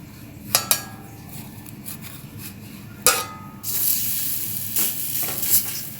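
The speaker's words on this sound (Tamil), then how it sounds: "தோசைக்கல்லில் எண்ணெய் ஊற்றி வச்சுங்க. எண்ணெய் ஊற்றி அடையை போட்டுடலாம்." Ragi adai frying in oil on a dosa griddle, a sizzle that swells loudly partway through, broken by several sharp clinks of a utensil against the pan, no talking.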